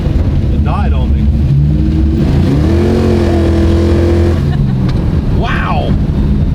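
A Dodge Dart engine is goosed with the throttle, its low rumble climbing into a rising rev and then easing back, loud and close, with people talking over it.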